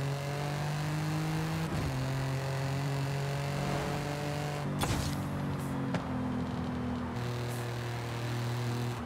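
Car engine in Forza Horizon revving and pulling hard through gears, a steady loud drone with pitch climbing and dropping at each shift, close and continuous with no talk.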